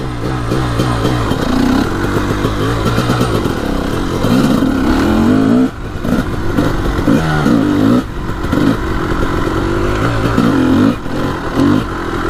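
A Honda CR250 two-stroke dirt bike revs loud and close as it is ridden, its engine note rising and falling in repeated bursts of acceleration with brief throttle-offs, alone with no talk.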